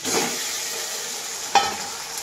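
Chicken pieces fry in a pan with tomato and onion, giving a continuous close sizzle with one sharp utensil knock partway through.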